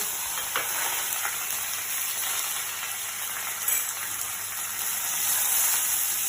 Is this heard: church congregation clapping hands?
no